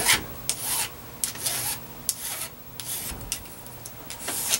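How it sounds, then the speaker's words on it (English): A hand file rasps along the edges of a trimmed wooden rubber band gun, shaping them round in repeated short strokes, close and fairly loud with brief pauses between passes. "So I'm filing right up to that edge or that line I drew."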